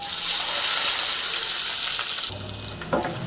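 Sesame oil sizzling loudly in a pan with fennel and cumin, then onions dropped in, the hiss shifting and settling into a steady fry with a brief stir near the end; no voices.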